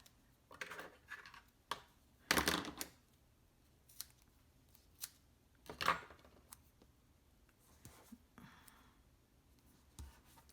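Double-sided adhesive tape being handled during card making: a series of short, quiet crackles and tears with a few sharper rips, spaced irregularly and heard alone at close range.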